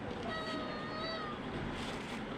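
A cat meows while waiting for cat food, several drawn-out plaintive cries in quick succession over a constant noisy background, fairly faint.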